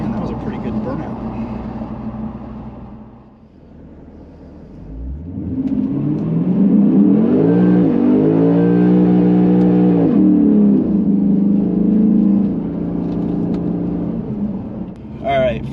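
A Lexus RC F's engine revs up with strong induction noise, climbing to a loud, sustained roar and easing off, with a voice briefly heard beneath it.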